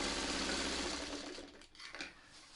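A sewing machine runs a back-stitched seam on a tote bag, a loud close whirring drone that slows and stops partway, followed by faint handling sounds.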